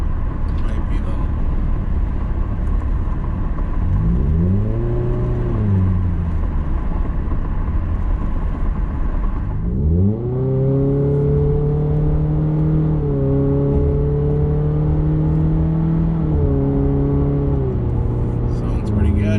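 A Subaru XV Crosstrek with a muffler delete cruises at 50 mph around 2,500 RPM, its loud droning exhaust rising and falling through gear changes. Wind and road noise run underneath, and a person talks over it.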